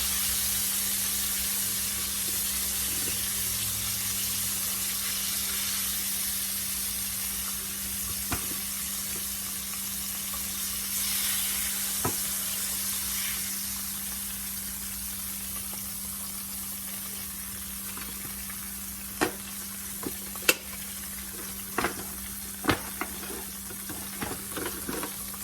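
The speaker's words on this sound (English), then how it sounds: "now that we have put our cube steak in and have them fried on each side, pretty much brown and crusted" Cube steak frying in a pan, a steady soft sizzle with a low hum behind it and occasional sharp pops and crackles near the end.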